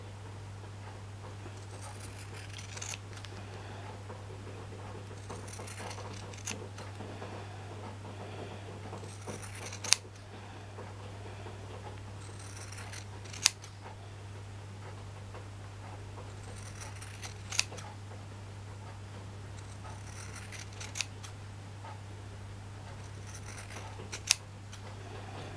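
Scissors snip through a piece of a costume-jewellery bag charm, several sharp clicks spaced a few seconds apart over a steady low hum, close and fairly quiet.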